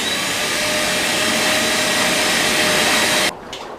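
A shop vac draws water out of a tank with a loud, steady whine and rushing roar that runs unbroken and then cuts off abruptly near the end, leaving a brief faint tail.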